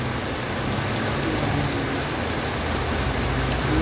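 Heavy rain pours steadily outside a restaurant, a dense, even roar with no breaks and no voices.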